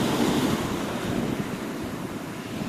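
Sea waves wash up over a hole dug in beach sand, a steady loud rushing surf with wind buffeting close to the microphone and no voices.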